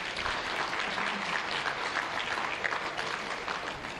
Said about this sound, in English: Ladies and gentlemen, another round of applause for the Vice President,